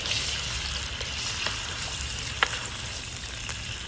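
Calamari sizzles steadily in hot cooking oil, a broad continuous frying hiss with a few soft pops and crackles scattered through, close and moderately loud with no voices.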